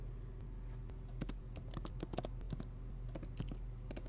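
Quick, light keystrokes on a computer keyboard while typing a class attribute into an HTML file: irregular clicks, some in short bursts, soft and close over a quiet room hum.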